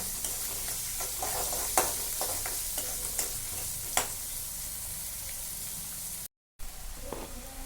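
Onions slowly sautéing in a pan on a medium gas flame for a pea curry, a soft steady sizzle with scattered light scrapes and taps of stirring, close and quiet, briefly cut to silence near the end.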